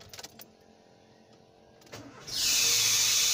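A car engine with a dry bearing and a worn, thin belt starts up after a few clicks, then settles into a loud, hissing, whining running noise, close and alone.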